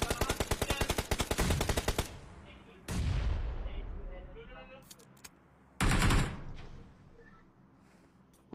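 Loud, close gunfire in a battle royale game scrim's final circle: a rapid automatic burst of evenly spaced shots, then a couple of heavy single blasts with decaying tails and scattered distant pops.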